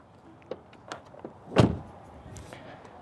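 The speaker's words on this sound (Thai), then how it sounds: "ปิดประตูรถเรียบร้อยแล้วนะครับ" A car door shuts with a single solid, close thud midway through, preceded by a few small clicks and handling noises and followed by quiet.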